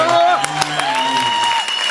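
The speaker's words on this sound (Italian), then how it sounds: "poi un applauso perché l'hanno meritato" Audience applause for performers at a stage show, steady clapping mixed with crowd noise while a presenter's voice speaks over it.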